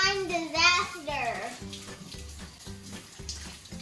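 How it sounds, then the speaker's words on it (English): Tap water runs steadily as hands are washed in a home kitchen while making pizza, with someone talking loudly over the flow at first. "Let me go wash my hands."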